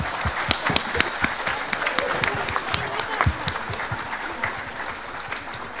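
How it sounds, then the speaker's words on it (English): A large audience gives thunderous applause at a convent high school's annual day, dense clapping with sharp, loud individual claps close by, steady across the whole stretch. "Put your hands together and give them a thunderous applause."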